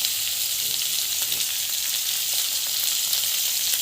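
Onion, green chili and chana dal sauté in a pan, giving a constant bright hiss of frying oil with faint scattered crackles, close and steady with no pauses.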